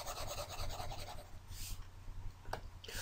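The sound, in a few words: erasing pen writing by rubbing it out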